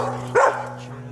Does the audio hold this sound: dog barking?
yes